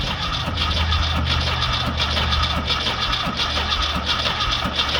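A Volkswagen Baja Bug engine cranking over with a rhythmic, repeating whoosh of compression, loud and close, steady pulses for several seconds without firing.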